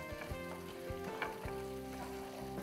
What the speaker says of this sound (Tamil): சின்ன வெங்காயம் லைட்டாக கொஞ்சம் வதங்கிடுச்சுனா போதும்,